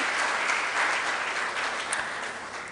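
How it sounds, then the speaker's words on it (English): Steady applause from an audience of students at a college lecture during a founder's week programme, a dense even wash of clapping that holds for the whole stretch with no voices over it. "Let's give them a round of applause"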